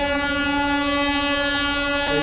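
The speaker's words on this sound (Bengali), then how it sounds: "ট্রেন আসছে।" A train draws near close to Ayodhya, giving a loud, steady tonal drone with stacked even harmonics that holds unbroken for about two seconds, with a slight change near the end.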